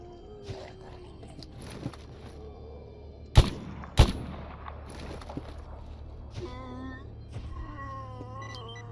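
Two sharp, loud gunshots in the video game Stalker Anomaly ring out close together, the second about half a second after the first, over a low steady background hum.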